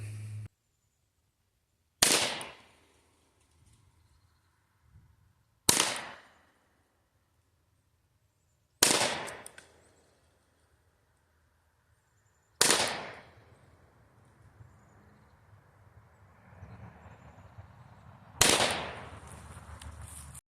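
A .22 rifle fires five separate shots at a target at 25 yards, each a sharp, loud crack spaced a few seconds apart, with quiet gaps and some faint background rustle between reports.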